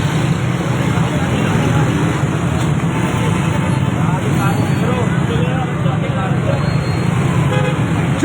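A roadway traffic jam of tractors and other vehicles gives a continuous loud rumble of idling and creeping engines with scattered horn toots, as someone talks over it.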